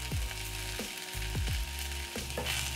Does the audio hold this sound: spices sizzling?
yes